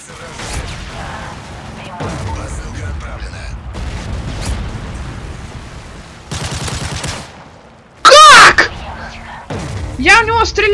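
Shots in the multiplayer shooter Call of Duty: Modern Warfare 3 come in several loud bursts between stretches of talk in Russian, with one sharp, very loud cluster near the end.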